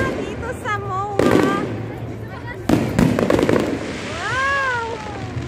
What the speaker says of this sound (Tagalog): Ayan, may fireworks na dito sa MOA.